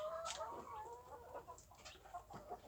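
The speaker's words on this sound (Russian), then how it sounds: "Тут и цыплятки, вот цыпляток я подращиваю, обычных, домашних своих, и бройлеров" Chicks and broiler chickens in an unheated brooder set between coops make soft, continuous clucking and peeping, close and fairly quiet, with no talk over it.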